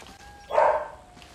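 In the video game Call of Duty Ghosts, a dog gives a single short bark at moderate volume, rising out of a quiet background and fading quickly.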